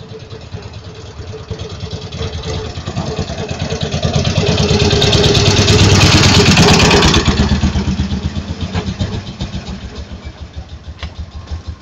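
A close Gnome-Rhône AX2 motorcycle engine putters at idle with a rapid chugging pulse, swelling louder in the middle as it revs slightly, then settling back.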